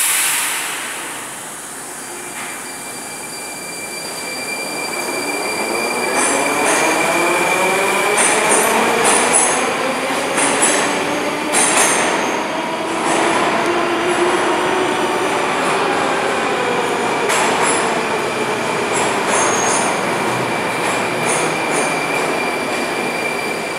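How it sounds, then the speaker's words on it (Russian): A train pulls away from a station, wheels squealing and rumbling as it gathers pace, loud and close, with repeated clatter over the rails and no one talking. "Сейчас поезд уедет ведь."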